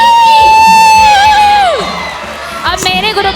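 A group of children at a school speech competition lets out a long, loud, sustained shout, falling off into scattered cheering and whoops, close and energetic.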